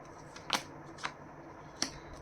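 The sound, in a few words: shuffling and drawing tarot cards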